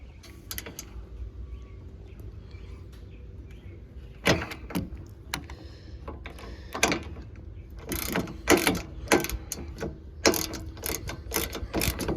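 A ratchet wrench works loose the cooler fittings on a car radiator during cooling-system work, sounding as quick bursts of sharp metallic clicking with short pauses, close and fairly loud, and no voices.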